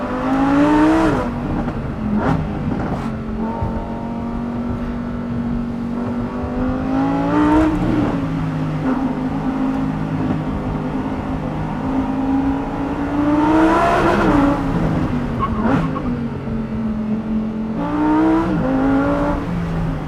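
A high-revving supercar engine on a race track roars continuously, its pitch climbing and dropping through several gear changes, loud and close, with no voices.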